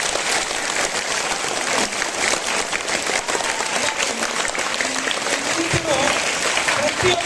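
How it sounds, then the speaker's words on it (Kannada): A seminar audience claps in loud, continuous applause that stays dense and even throughout, with many hands close together. "ಮತ್ತೆ ಹೊಡಿರಿ ಜೋರಾಗಿ ಚಪ್ಪಾಳೆ."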